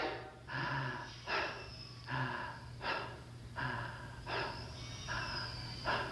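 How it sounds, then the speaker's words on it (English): Fast-paced breathing through the mouth for a breathwork exercise, a close, loud series of rhythmic inhales and exhales at roughly one breath per second, with no talk. "we're breathing through the mouth to get more oxygen per breath, and we're breathing at a faster pace to give more breaths per minute"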